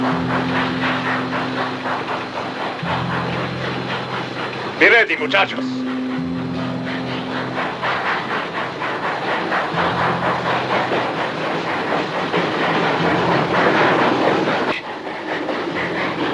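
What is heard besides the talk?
train running on rails, from a film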